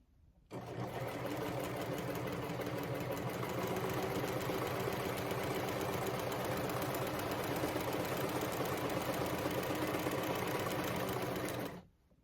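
A sewing machine fitted with a walking foot quilts layers of fabric, running in one steady, fast mechanical whir for about eleven seconds, close and continuous, with no talking.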